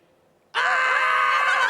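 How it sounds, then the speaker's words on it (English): A weird, loud scream from Tinky Winky, the Teletubbies character, bursts in abruptly after a near-silent moment and holds as a strained, sustained shriek with no talk over it. "What was that weird scream from Tinky Winky?"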